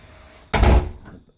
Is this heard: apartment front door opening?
yes